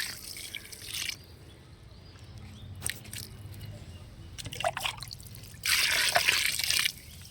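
A solution of groundnut cake and neem cake mixed in water is poured around a ratooned brinjal plant in a garden, giving soft close trickles and splashes in two bursts, with quiet dripping between them.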